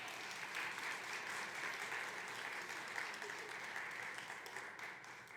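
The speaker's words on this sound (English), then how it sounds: "So a round of applause for our host," Steady, even applause from a farming panel audience, a dense wash of many hands clapping without pause for several seconds, somewhat distant and fairly soft.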